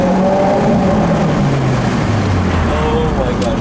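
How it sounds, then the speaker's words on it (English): A 2023 Subaru WRX engine revs loudly up close, a continuous droning roar with rising and falling pitch, dense and unbroken for the whole stretch. "let me give you guys a quick sound for this car"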